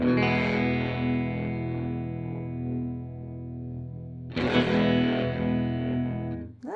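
EHX Stereo Pulsar Nano tremolo set to a rising sawtooth wave, shaping a distorted, sustained guitar chord. It rings loud and alone, then is restruck brightly near the end.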